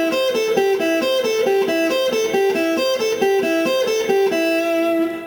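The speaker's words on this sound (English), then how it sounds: "when you loop an even number of notes, they sound like this" An electric guitar repeats a short four-note pattern over and over in an even, steady rhythm, bright and clear with no voices.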